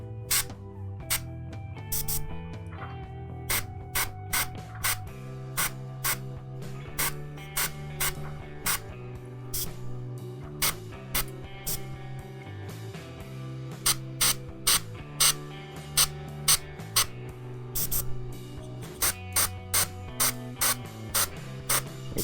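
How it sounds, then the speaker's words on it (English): An airbrush spraying paint onto miniature armour in short repeated bursts, each a sharp hiss of air separated by brief pauses, close and rhythmic over a faint background hum. "With small bursts you get more control of your airbrush as well."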